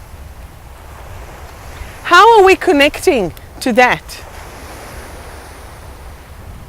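Wind and sea waves wash steadily at the seaside, with a constant broadband roar under a woman's short spoken question in the middle.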